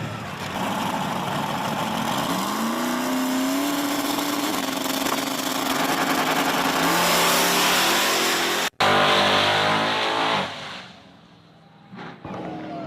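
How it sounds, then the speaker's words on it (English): Drag racing cars, one a Saturn, launch down the strip at Virginia Motorsports Park, with a loud engine revving and rising in pitch through the gears, then a sharp cut and a dropping roar as the cars pass, with no voices. "we got Rockin' Rob in the left lane coming up against Turbo John driving the Saturn"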